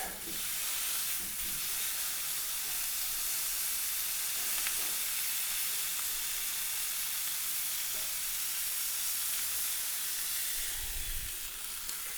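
Smash burger patty sizzling in olive oil on a hot Masterbuilt Gravity Grill griddle, a bright, steady hiss and crackle held close and constant with no talking.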